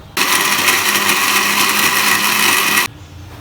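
A blender grinding dates, apple and ice for a milkshake, a loud steady motor whir running about three seconds before cutting off abruptly.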